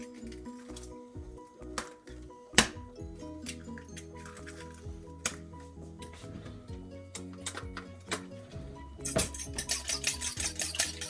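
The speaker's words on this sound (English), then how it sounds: "We're going to scramble up the eggs a little bit before we put them in" Eggs are scrambled in a bowl for meatballs, with irregular taps, clinks and wet squishing strokes of a utensil against the bowl, close by and moderately quiet.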